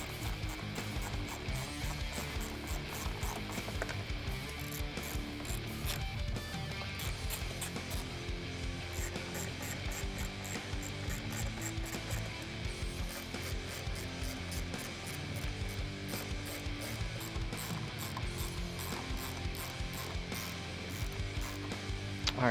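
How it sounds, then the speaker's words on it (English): A 10mm ratcheting wrench tightens bumper hardware on a 2018-2019 Ford Mustang, giving a steady run of rapid metallic ratchet clicks throughout with no talking. "with our 10mm ratcheting wrench"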